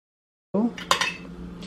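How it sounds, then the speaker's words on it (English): Utensils and dishes clink briefly in a home kitchen as fried rice is plated, a quick cluster of bright metallic taps and knocks over a low hum, close and moderately loud. "so now I'm going to plate the food"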